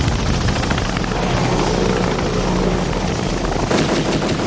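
A Black Hawk helicopter's dense, continuous rotor thrum mixes with rapid bursts of machine-gun fire in a Battle of Mogadishu combat scene, loud and unbroken throughout.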